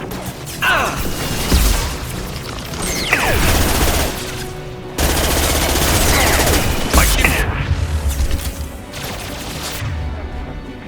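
Mass Effect 2 combat with dense gunfire, bursts of shots and crashing impacts layered over a rumbling battle bed, with voices calling out between volleys.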